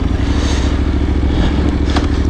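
A Yamaha Tenere 700 motorcycle engine runs loud and close, with a steady low rumble and some mechanical clatter as the bike pulls away from a stop.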